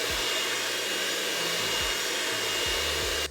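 An electric hand mixer fitted with a whisk attachment whirs steadily through pumpkin pie filling, a loud continuous motor hum with faint rhythmic pitch dips as it works, cutting off abruptly at the end.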